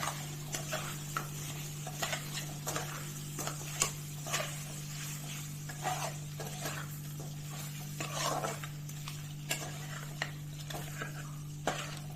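Mutton kosa being stirred with fried onion paste in a pot at home, giving a run of soft scraping and clinking spoon strokes at an irregular rhythm over a steady low hum, close and fairly quiet.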